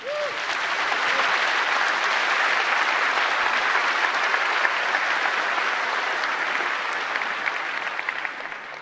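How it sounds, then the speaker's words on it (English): A keynote audience breaks into sustained, even applause, a broad wash of clapping that swells quickly and holds steady throughout, with a brief voice at the very start. "I want everyone to applaud these folks"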